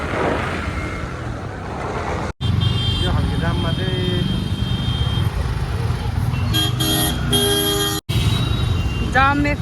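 Traffic jam near a Lucknow hypermarket, with cars and motorcycles idling and several short horn toots and honks scattered across a constant road rumble, while people talk.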